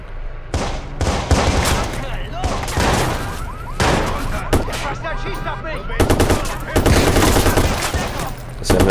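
Heavy automatic gunfire from the video game Watch Dogs rattles loudly and almost without pause in rapid overlapping bursts, with a short lull before the firing resumes just as intensely.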